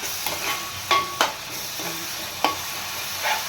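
Onions, green chillies, curry leaves and masala fry in a pan for a fish curry, a steady close sizzle broken by a few sharp spoon scrapes and clacks, with no voices.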